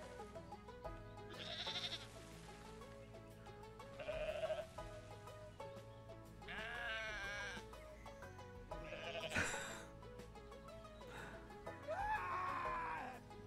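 Goats scream in Goat Simulator 3: several loud, wavering bleating cries come in separate bursts over a quiet tonal game backdrop, with brief pauses between them.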